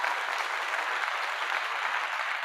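A loud, steady wash of applause runs unbroken from start to finish, dense and close.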